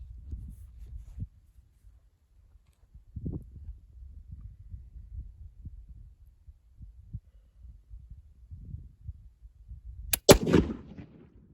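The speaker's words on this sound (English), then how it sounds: "Hang fire" A surplus 8mm Egyptian 1956 rifle round fires after a delay: low quiet rumble and handling for about ten seconds, then one sharp, loud gunshot crack with a brief echoing tail.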